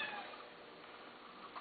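A Siamese cat from a rescue, slightly cross-eyed, gives a single drawn-out meow, close and fairly soft, alone without voices.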